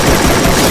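A dense burst of rapid gunfire from the video game Free Fire, loud and continuous for under a second, with no talk over it.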